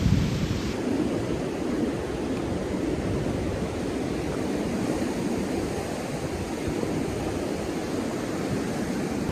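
Ocean surf rolls in at Agate Beach on the Northern California coast at Patrick's Point, a continuous broad roar of breaking waves with no voices.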